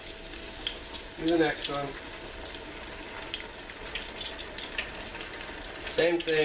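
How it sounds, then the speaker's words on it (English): Beer-battered pieces fry in hot grease at about 375 degrees, giving a steady crackling sizzle throughout, with a voice briefly speaking over it. "Right into the hot grease."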